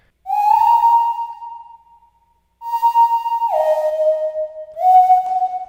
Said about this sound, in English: this reverb, which is a big part of the sound in my opinion